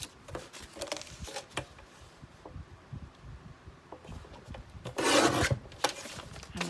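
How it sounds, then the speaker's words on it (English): A Tim Holtz paper cutter trims about a quarter inch off junk journal paper, giving soft rasping slides with a louder, brighter stroke near the end, close by and with no talking. "So I'm just going to trim about 1/4 of an inch off these."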